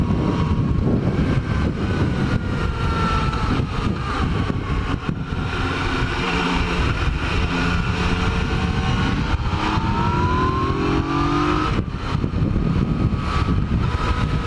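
A Yamaha FJ-09 motorcycle rolls on the throttle from about 3,000 RPM, its engine note climbing steadily through a sustained acceleration, loud and close, mixed with wind and road noise throughout.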